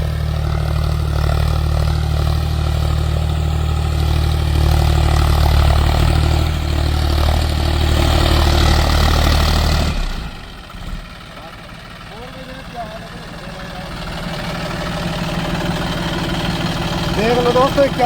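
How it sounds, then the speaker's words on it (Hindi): John Deere 5105 40 hp tractor driving a Maschio 8.5-foot rotavator, a loud steady low engine drone that cuts off sharply partway through, leaving quieter ambient noise that gradually builds back up. "देख लो दोस्तों 5105 40 हॉर्स पावर ट्रैक्टर।"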